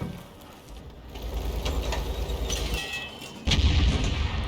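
A 105 leFH18B2 self-propelled artillery gun fires in World of Tanks, a deep boom landing late in the clip above a rumbling battle ambience, with mechanical clanks earlier.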